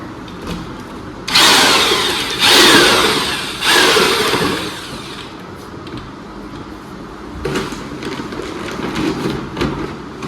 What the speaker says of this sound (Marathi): पुट्टी मिक्स करून ही मशीन ना त्याला हलवणार आहे